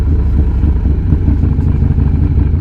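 A Softail motorcycle rides nearby on the road, its engine giving a loud, steady, low rumbling throb with a slight uneven pulse, heard close and with no talk.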